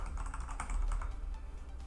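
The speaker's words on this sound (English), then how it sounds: "we're just going to type in automation applied so we know that it's applied" Rapid typing on a computer keyboard while entering a short note, a quick close burst of light key clicks lasting under two seconds with no speech.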